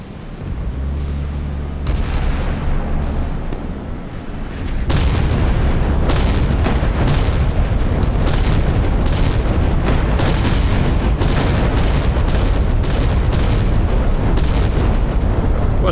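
Naval gunfire from modern warships, US Arleigh Burke and Ticonderoga destroyers and cruisers against Chinese Type 054A, 052D and 055 ships, in the naval game Sea Power: a rapid barrage of loud, deep booms that merges into a sustained thundering roar.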